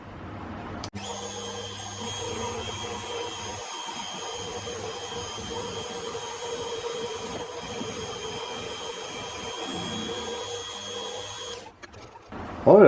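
A bandsaw cutting the bottom of a wooden piece, a steady high whining drone with a low rumble running unbroken for about eleven seconds before stopping abruptly, loud and close, with no talking.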